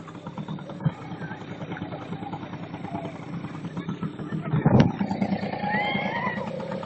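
A HANGKAI 4HP outboard motor runs on a SeaLine 2-270 rigid-transom boat on a lake, a steady low putter close by, rising briefly in the middle, with people talking over it.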